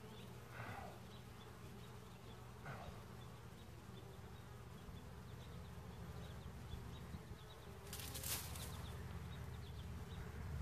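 Honey bees swarm around an open ten-frame brood box, a soft continuous buzz close by with individual bees droning past, and a sharper rustle or scrape near the end.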